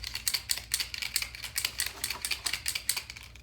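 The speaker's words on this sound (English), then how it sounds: "What you want to do is shake your pen" A paint pen rattles as it is shaken in quick, rhythmic bursts of sharp clicking, close and clear, its mixing ball knocking repeatedly against the barrel with no talk.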